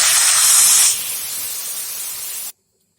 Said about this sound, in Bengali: এখন আমি জল দিয়ে দিব মিক্সির কাঠিতে ধুয়ে জল দিয়ে দিব